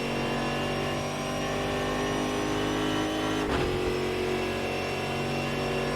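Onboard a Brazilian StockCar race car at Goiania, the engine drones loud and steady, then briefly dips for an upshift into a higher gear before pulling hard again.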